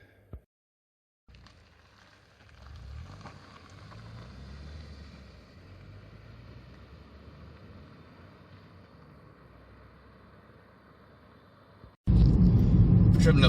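Inside a 2018 Hyundai i10 1.2 SE on the move, a steady low engine and road rumble fills the cabin, then cuts off in a sudden, much louder burst of noise.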